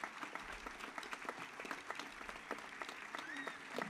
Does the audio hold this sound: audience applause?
yes